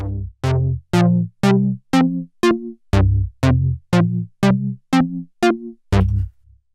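A modular synthesizer arpeggio runs through a resonant filter shaped by a composite envelope, with about twelve quick plucked notes in a steady rhythm and a faint lingering warble after the final note is released, heard alone with no talking.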